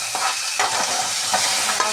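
Finely chopped tomatoes sautéing with ginger-garlic paste and turmeric for chole masala, a loud close sizzle broken by several scraping stirs of a spoon in the pan, with no talk.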